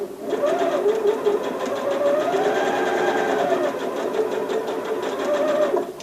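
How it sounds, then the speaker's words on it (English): A sewing machine stitches quilt seams in one continuous, close, steady whirring run for about six seconds, with a rapid even rhythm and no voices. "Drop that pressure foot, drop the needle, make sure you're in the right space, and begin to sew."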